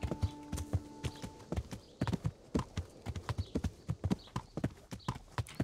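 Horse hooves clip-clopping in the video game Kingdom Come: Deliverance while riding toward a forest, a steady, even rhythm of close, distinct hoofbeats.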